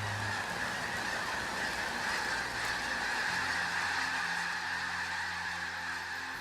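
A huge flock of birds fills the air, nearby and continuous, with a thick chorus of goose-like honking and calling under a steady rushing background, no speech.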